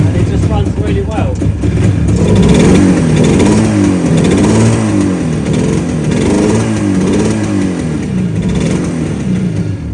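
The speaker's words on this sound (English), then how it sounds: "it now just starts up on the kick and it just runs really well" Yamaha RD400 two-stroke motorcycle engine running after a kick start, a loud, close, steady buzzing idle with rising and falling revs throughout, while someone talks over it.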